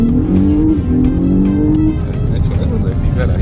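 A new Audi SQ5 engine rumbles loud and close, with a revving tone that rises then settles into a steady deep drone, and faint talk mixed in.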